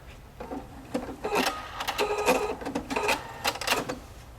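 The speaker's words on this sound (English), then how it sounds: "The machine does a great job with its free motion quilting." A Husqvarna Viking Opal 690Q sewing machine stitching in free-motion quilting mode, running in close, steady bursts with brief starts and stops, fairly loud and heard alone.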